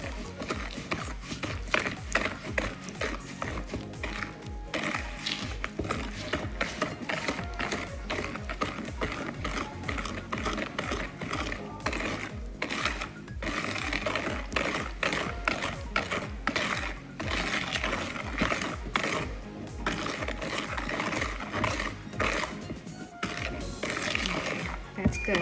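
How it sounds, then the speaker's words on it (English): Butter, sugar and Nutella are mixed together in a bowl for brownies, producing a dense, continuous, rapid clatter that stays close and fairly loud throughout. "then you start mixing up the butter and the sugar and the Nutella"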